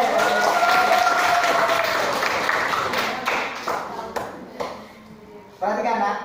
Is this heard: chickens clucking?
no